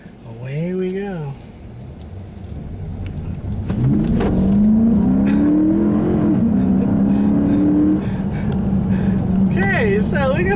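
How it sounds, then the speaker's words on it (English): A 2012 Dodge Charger R/T with a 5.7-liter V8 Hemi, 370 horsepower, pulls away in sport mode on a back road, its engine note rising and holding under brief talk inside the cabin. "I'll put this into sport mode, and away we go"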